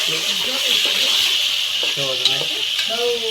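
Tomatoes go into a pan of cooked spice masala and are stirred, giving a constant sizzle with scraping strokes and faint voice-like tones underneath.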